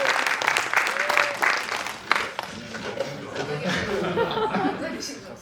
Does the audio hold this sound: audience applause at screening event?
yes